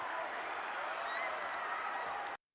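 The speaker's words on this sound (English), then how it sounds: "The crowd going crazy" A basketball arena crowd roars and applauds after a game-winning shot by Utah State over Boise State, a dense, steady wash of cheering that cuts off abruptly near the end.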